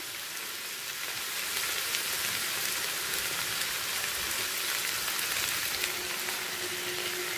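Potatoes, carrots and beans frying on high flame in a pan, giving a continuous even hiss like rain on a surface, soft and steady throughout with no talking.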